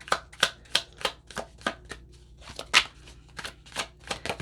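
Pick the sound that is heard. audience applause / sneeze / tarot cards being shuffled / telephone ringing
tarot cards being shuffled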